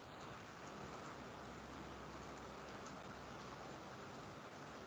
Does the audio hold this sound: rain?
yes